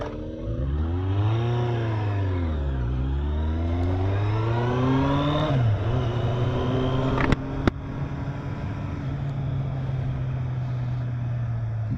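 A Kawasaki Z800 motorcycle being ridden, its engine revving up and down through the gears, then holding a steady drone, with loud wind rush and two sharp clicks.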